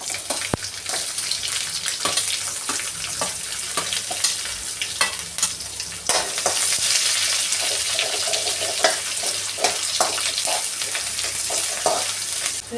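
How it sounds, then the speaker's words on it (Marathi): Sliced onion frying in hot oil with crushed ginger and garlic, a steady bright sizzle with frequent stirring scrapes and clicks throughout, growing slightly louder partway through. "आता मी याच्यामध्ये कांदा टाकते उभा चिरलेला"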